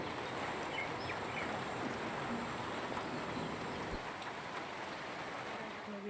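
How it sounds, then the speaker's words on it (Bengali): Evening rain falls steadily in a village, a constant soft hiss of drops on surfaces, faint and even throughout with no voices. "সন্ধ্যাবেলা দেখো আমাদের এখানে বৃষ্টি শুরু হয়েছে"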